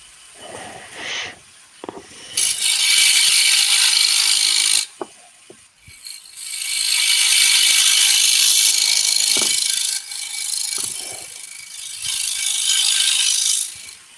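A skew chisel worked as a negative rake scraper on a wood lathe while turning a pagoda box, giving loud sustained scraping bursts broken by short pauses and faint knocks.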